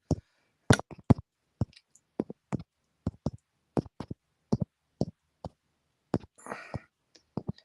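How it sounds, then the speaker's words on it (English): Quiet, sparse tapping clicks of typing on a phone sound close by, spaced irregularly like fingertips on a touchscreen, with a brief soft rustle near the end. "I apologize for the noise, but I'm typing in my phone"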